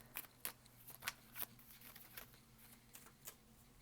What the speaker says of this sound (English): So y'all can see me shuffle.